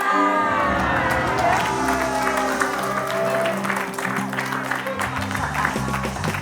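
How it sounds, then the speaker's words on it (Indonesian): Audience applause for Natasha on a comedy talk show, clapping and cheering from the crowd blended with music and some voices, steady and fairly loud throughout. "Tepuk tangan buat Natasha"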